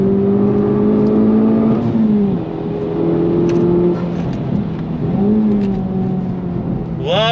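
Honda Civic Type R FL5 engine revving up to redline, loud rising tones with two gear shifts dropping the pitch before climbing again, close in-cabin sound.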